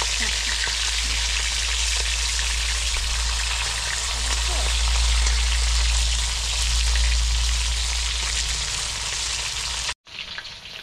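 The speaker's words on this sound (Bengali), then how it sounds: "দেখুন লাল লাল করে মাছগুলো ভেজে নিয়েছি" Parshe fish frying in hot oil for a mustard-and-kalo-jeere curry, a steady dense sizzle with crackles holding evenly for about ten seconds before cutting off abruptly.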